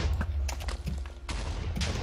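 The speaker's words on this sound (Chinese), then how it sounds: "下一波轰炸要开始喽！" In a Minecraft war-map match, bombardment explosions go off in quick, irregular bursts, a rapid volley of sharp cracks and booms landing close together over a low rumbling bed, with no talk.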